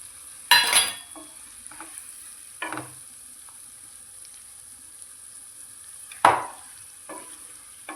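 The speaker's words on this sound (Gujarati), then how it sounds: "બસ અને તેલમાં જ આ રીતે થોડી વાર શેકાવા દઈશું મરચાંને" Chillies roast in oil in a pan for a bottle gourd and tomato curry, with a soft background sizzle broken by several sharp scraping stirs of a spoon.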